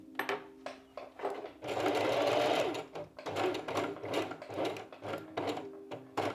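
A sewing machine stitches a ruffled sleeve cuff with slit, running in short bursts with one longer steady run in the middle, close and alone with no talk.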